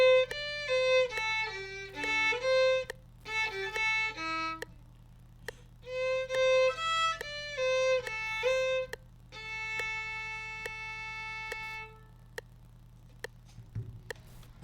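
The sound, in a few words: violin playing part of a song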